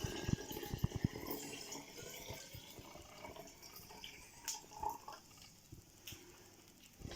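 Homemade apple cider vinegar poured into a mason jar, a thin trickling and splashing of liquid with small drips and clinks, close and fairly quiet throughout.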